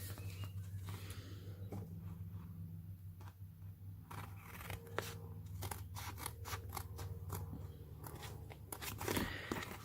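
Scissors snipping around paper stickers up close, quiet crisp cuts coming in an uneven run that quickens into a series of rapid snips later on, with no talk.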